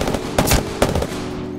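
Enemy gunfire in Apex Legends, a few quick bursts of sharp shots, loud and close, in a brief clip.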